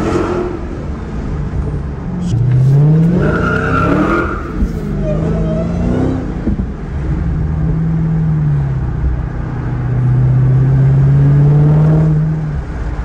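Dodge Challenger Hellcat sliding sideways on a Las Vegas street, with loud tire squeal sweeping up and down over an engine roar in two long bursts, close and continuous.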